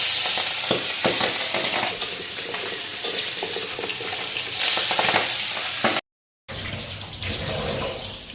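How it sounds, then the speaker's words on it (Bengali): Fish sizzles steadily as it fries in a wok, a continuous hissing broken by a few crackles and spatters, with a brief gap of silence near the end before the frying resumes. "আর এদিকে কড়াইতে মাছ দিয়া 10 মিনিট ধরে সইরা গেলাম।"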